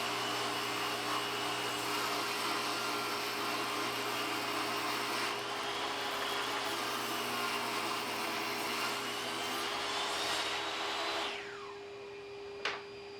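A table saw rips a 2x4 board to 3.25 inches, its motor a steady loud whine with a constant hum under the cut, winding down near the end with a single sharp click.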